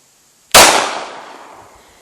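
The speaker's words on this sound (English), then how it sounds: "40 Smith & Wesson out of the Glock 20." A single sharp .40 S&W pistol shot from a Glock 20 fired into a ballistic gel block, loud and close, with a ringing decay trailing off over the next second and a half.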